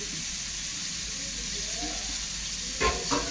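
An onion mixture sautés in a pan for peanut curry, a steady close hiss and sizzle, with two brief scraping stirs right at the end.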